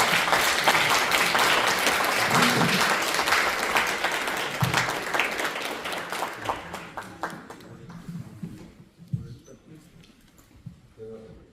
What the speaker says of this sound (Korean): 모두 큰 박수로 환영해 주시길 바라겠습니다.